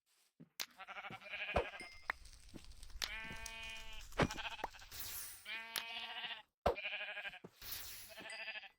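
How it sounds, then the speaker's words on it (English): Sheep in a video game bleat repeatedly, several clear wavering calls spaced over a few seconds, close and prominent with short gaps of quiet and no talk. "And I see sheep."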